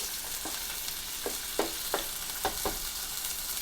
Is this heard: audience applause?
no